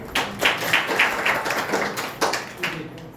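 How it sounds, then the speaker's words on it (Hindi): A small group at a church wedding ceremony claps in a loose, uneven rhythm, a handful of close, sharp claps rising and falling for a few seconds. "ताली बजाइए।"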